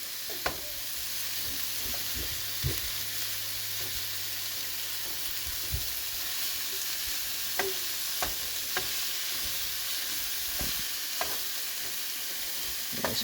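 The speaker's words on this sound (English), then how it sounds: "Just keep stirring it till the sausage is pretty done, because this was raw and you want to make sure that it's fully cooked." Raw crumbled sausage frying in a pan for a breakfast casserole, with a steady sizzle throughout and scattered sharp scrapes and clicks from stirring, no voices.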